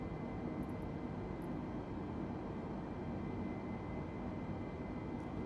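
Airliner engines in a flight simulator game throttling down during descent, a steady low broadband rumble and drone that holds even throughout.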